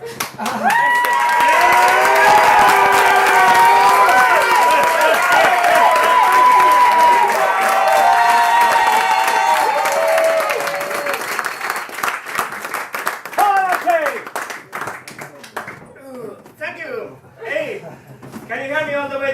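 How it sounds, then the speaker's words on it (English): Comedy gig audience bursts into loud applause and cheering, sustained clapping with whoops and shouts that fades into scattered claps and chuckles as a voice starts talking. "Everybody, Milka, start the applause."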